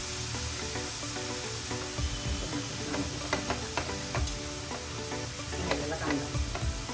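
Onion fries in a pan and is stirred, making a continuous close sizzle. Scattered taps and scrapes of a utensil come through, with a faint hum running underneath.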